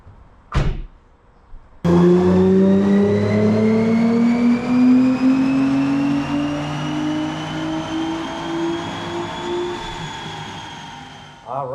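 A Nissan R35 GT-R runs a baseline pull on an AWD Mustang dyno. A short blip is followed by a loud, sustained full-throttle pull whose engine pitch climbs steadily for about eight seconds before backing off.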